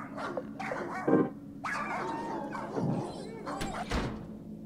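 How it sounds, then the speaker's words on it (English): A dog barks and yips a few times in a video game, mixed with game sounds and a person talking over it. "Oh my god, the dog."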